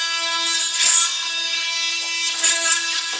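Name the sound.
oscillating multi-tool cutting wood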